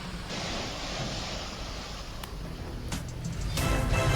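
Floodwater washing over a waterlogged road after heavy rain, a steady broadband rushing and splashing wash, fairly loud and close, growing slightly stronger toward the end, with no speech.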